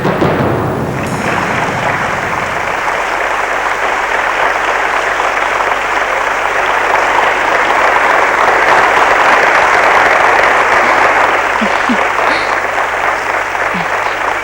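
A theatre audience bursts into loud, sustained applause after a stage drama scene, a dense wash of clapping that continues evenly with only brief sharper claps near the end.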